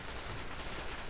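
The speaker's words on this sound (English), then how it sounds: "I'm gonna shoot my revolver at this turret that's 2 miles away from me." Hand cannon revolver fire aimed at a distant turret in the video game Destiny, heard as a dense, continuous wash of gunfire and explosive rumble with no distinct individual shots and no voices.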